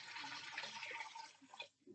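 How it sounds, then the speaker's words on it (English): Four cups of water poured into a pot for homemade spaghetti sauce, a soft, close splashing pour that runs about a second and a half before cutting off, heard faintly and alone. "4 cups of water. Plain old high quality H2O."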